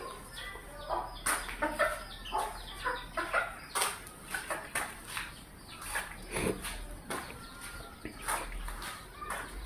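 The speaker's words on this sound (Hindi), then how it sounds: "बाहर वो बैठी है, डॉन मुर्गी मारेगी।" Hens cluck in short, uneven bursts, including a white hen, fairly quiet and close by with no talking.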